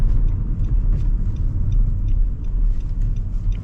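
Road traffic rumbles steadily on a busy UK main road near a traffic light, with a continuous low engine drone from the cars.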